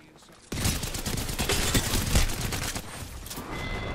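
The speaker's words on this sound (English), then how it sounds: "Oh, of course I got shot in the back." Gunfire in a Battle Royale shooter match, a dense sustained fusillade of rapid shots for several seconds, loud and close, with a voice briefly underneath.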